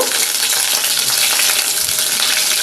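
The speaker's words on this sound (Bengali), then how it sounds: "আমি এখানে অল্প একটু জিরে ফোড়ন দিয়ে দিচ্ছি" Cumin seeds sizzling in hot oil for tempering, a dense, loud, continuous crackling hiss heard up close with no voices.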